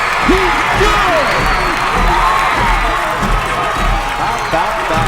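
A high school football crowd at a Friday night game between New Hampstead and Richmond Hill roars loudly after a 44-yard game-tying field goal, with sustained cheering, whoops and applause, and a voice talking over the din.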